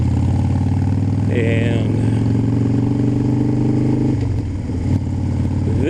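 Harley-Davidson motorcycle engine idling with a deep, loping low rumble close by, swelling briefly as it revs and settling again, while someone speaks over it.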